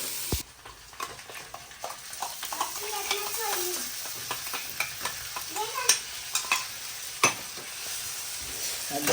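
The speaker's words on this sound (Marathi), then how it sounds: "कांदा थोडासा फ्राय करू." Onion frying in a pan, a steady sizzle with scraping stirs and clinks of a utensil against the pan, with brief voices in the background.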